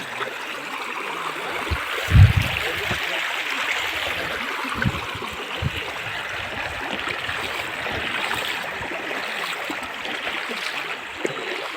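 A shallow river winds over rocks toward Boraitali waterfall, its water rushing and trickling in a steady, moderately quiet wash, with a soft thump near the start.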